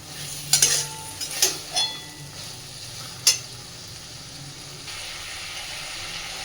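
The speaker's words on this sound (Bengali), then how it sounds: "আমি মশলার সাথে আলু ফুলকপি সব কিছু খুব সুন্দর করে কষে নিয়েছি" Potatoes and cauliflower sautéing with spices in a pan: a few sharp spoon scrapes and stirring clatters over a low, continuous sizzle, then quieter frying near the end.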